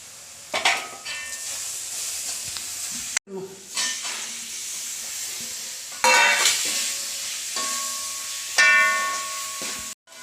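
Coriander powder, chili powder and masala powder sizzle in hot oil with softened onions in a pan for a beef curry. A steady hiss runs under repeated close scrapes and stirs of a spoon.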